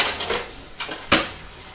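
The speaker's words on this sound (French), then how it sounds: "On va se faire un micro brin de vaisselle." Dishes being washed in a home kitchen, a few sharp clinks and knocks of pots and cutlery spaced apart, close by, with no talking.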